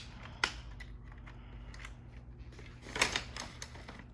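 Folding a Venice Child Maverick stroller, heard as a few quiet clicks and clacks from its frame and latches, with a sharp snap near the start and a cluster of louder clicks about three seconds in, over a faint steady hum.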